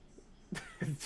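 Two quick, soft coughs close by, fairly quiet, against a hushed background.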